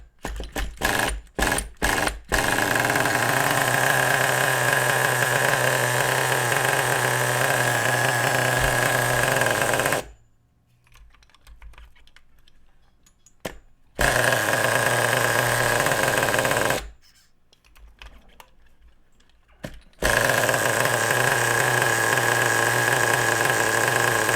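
A nitro RC car engine runs after carburetor trim and idle screw adjustment: loud, close buzzing whine at full roar, cutting out twice into near silence before restarting, no speech.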